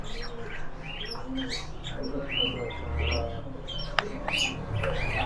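Several small birds chirp and tweet in a busy mix, one call resembling a myna, with soft cooing and faint background voices throughout.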